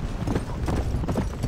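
Horse hooves clip-clop in a quick, steady rhythm in the Red Dead Redemption video game, close and fairly faint, each hoof strike distinct.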